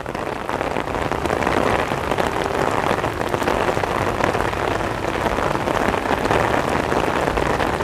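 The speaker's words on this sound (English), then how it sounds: "Disney rain is magical." Steady rain pouring onto hard surfaces at Epcot theme park, a dense, even hiss of drops close around the listener for several seconds with no pauses.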